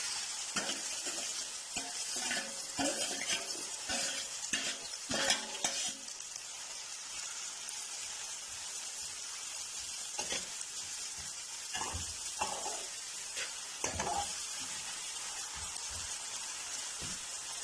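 Chopped onion fries in hot oil in a pan, a steady bright sizzle throughout with scattered scraping and clattering as it is stirred, fairly quiet, no voices.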